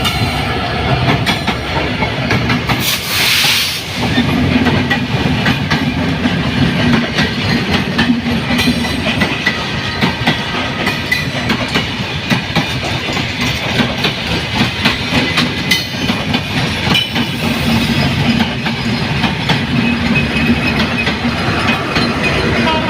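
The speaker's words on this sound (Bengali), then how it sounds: "দেখেন দুই লাইন দিয়েই দুইটি ট্রেন আসতেছে।" Two trains run side by side on parallel railway tracks bound for Kamalapur, a loud, continuous rumble and clickety-clack of wagons passing close by with no speech.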